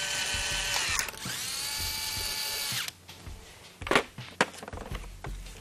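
A power tool runs up and snugs the transmission pan bolts on an Audi/VW 09G automatic transmission, a loud steady whir for a few seconds that ends abruptly, followed by sharp ratcheting clicks and clatter.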